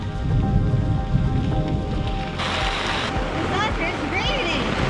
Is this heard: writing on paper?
no